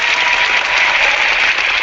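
A clap sound effect played during an online hangout, a short dense burst of applause-like clapping, loud and steady for under two seconds with no voices.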